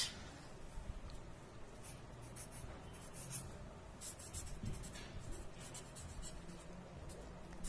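Pen or pencil scratching steadily across paper while a grammar lesson on punctuation is written out, continuous close rubbing strokes with no talk.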